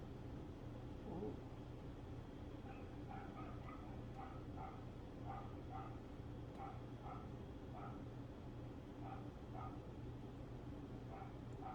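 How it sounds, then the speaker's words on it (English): Two miniature pinschers belonging to a neighbor bark in a run of repeated, moderately distant yips and bow-wows through a thin apartment wall, over a steady low hum. "You hear my neighbor's dogs."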